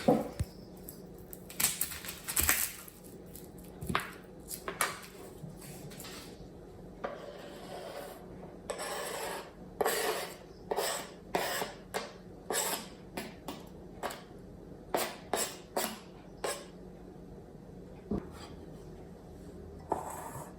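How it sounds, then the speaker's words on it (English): A knife rasps and taps through a red onion on a wooden board, quiet irregular strokes with short bursts and pauses, close by with no talking. "Now I'll chop up a little bit of this red onion."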